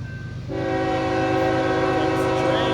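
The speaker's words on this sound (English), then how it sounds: "Comes the train." A train sounds a loud, sustained multi-tone horn close by as it passes, the blast starting abruptly and holding steady over rumbling wheels, heard from a muddy trackside spot.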